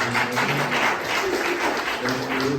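Audience applause at a talk on young people using phones productively, a steady roll of many hands clapping throughout, with a faint voice and low hum beneath it.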